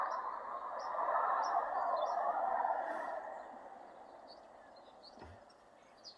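A chickadee calls outdoors in winter, giving several short, faint, high chirps spaced through a steady background hiss of wind or distant noise.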